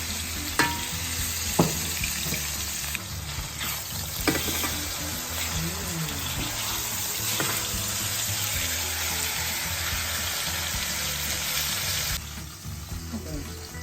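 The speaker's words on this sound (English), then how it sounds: "Now I'm just going to sear it a little bit on each side and give it extra flavor and juiciness." Ribeye steak searing in a hot pan on the stove, a loud continuous sizzle and crackle at close range, with a few clinks and shifts of the meat and no talking.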